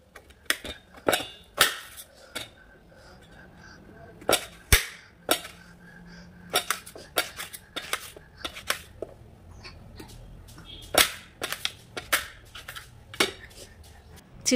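A knife chops a peeled ash gourd into small pieces on a board, with sharp irregular cuts and taps in quick clusters and short pauses, fairly close and otherwise quiet.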